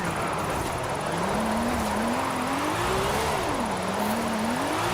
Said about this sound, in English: This is a Lamborghini Countach